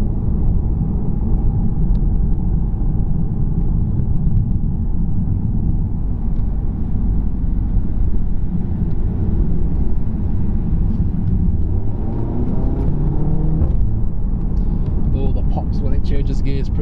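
Engine of a 2017 Audi TT S-Line heard from inside while driving, a steady low drone with a shift in pitch near the end as it changes gear, under continuous conversation between occupants.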